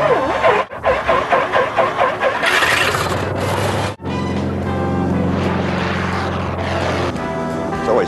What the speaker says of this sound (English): Trim. Fuel. Now the engine.